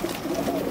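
A racing pigeon gives a brief, close cooing call while being held for a Newcastle disease vaccination, the soft throaty coo carrying on without other sounds.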